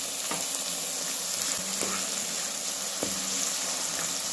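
Tomatoes and green chillies frying in oil in a pan while being stirred, a steady soft sizzle broken by a few spoon knocks and scrapes, with no talking.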